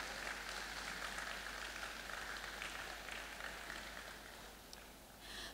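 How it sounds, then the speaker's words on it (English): An audience at a cup launch event claps in a sustained, dense wash that sounds almost like rain, steady and fairly soft, tapering slightly near the end over a constant low hum. "A round of applause for her again."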